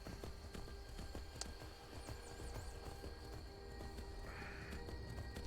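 A horse gallops in the video game Skyrim, a rapid, even clip-clop of hooves running on continuously under a soft background din.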